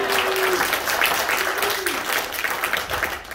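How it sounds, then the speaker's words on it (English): A church congregation applauds in a steady, dense wash of clapping that lasts throughout, with a faint sustained tone beneath it early on. "Let's give God applause."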